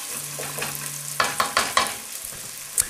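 Onions cooking slowly in a pot for lobster chowder, caramelizing: a soft, steady sizzle with a few stirring scrapes and clinks near the end, no talk.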